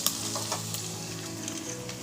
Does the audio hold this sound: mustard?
yes